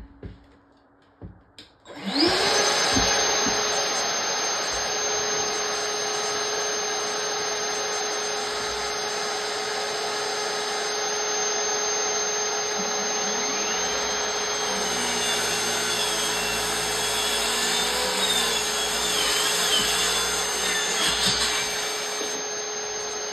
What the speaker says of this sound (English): Turn on my vacuum here, kind of keep the dust down as much as possible.